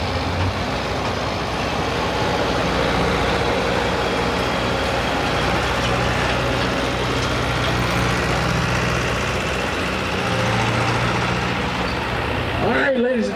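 A loud pulling tractor engine idling at an Atlantic Pro Pulling event at the Jefferson County, West Virginia fair, a heavy continuous rumble that fills the whole stretch, with an announcer's voice talking over it.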